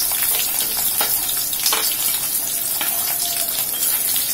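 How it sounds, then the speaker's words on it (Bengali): Sliced onions sizzle steadily in hot oil in a pan, the start of a bitter gourd bhaji, with a continuous close crackling hiss and small scattered pops throughout. "আমি তেলের মধ্যে পেঁয়াজ একটু পেঁয়াজ কাটুনে সাজিয়ে দিচ্ছি"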